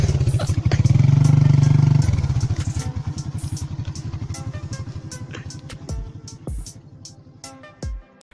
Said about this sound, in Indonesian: Terlihat pengendara motor ini justru dilewatkan ke jalan sempit di pinggir sawah, yang kondisinya cukup licin.